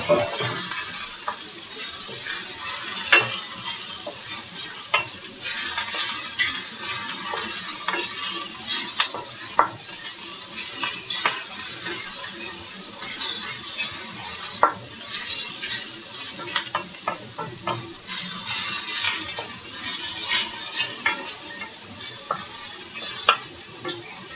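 A handful of spinach stirred in a sizzling omelette pan, with a constant fry hiss and repeated sharp clinks and scrapes of a utensil against the pan at an irregular pace.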